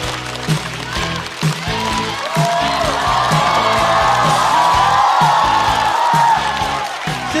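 A studio audience at a Chinese stand-up comedy show applauds and cheers loudly to welcome comedian He Guangzhi, with whoops and yells over steady clapping and a thumping beat of walk-on music underneath.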